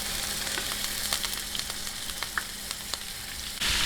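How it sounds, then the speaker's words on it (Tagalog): Pork ribs fry lightly in a pan with a steady close sizzle, several brief spatters and clinks, and a louder burst of crackling in the last moments; no one speaks. "Ngayon po, medyo lang po ating piprituhin ng bahagya."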